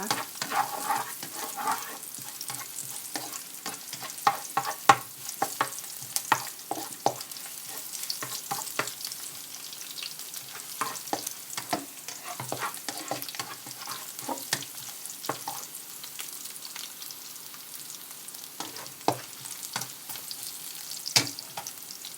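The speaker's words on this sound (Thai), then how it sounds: "แล้วก็ใส่กระเทียมลงไปเลยค่ะ ผัดพอกระเทียมหอมๆนะคะ" Garlic stir-frying in hot oil for a canned-fish chili paste, a steady soft sizzle with frequent scraping and tapping of a spatula against the pan, no voices.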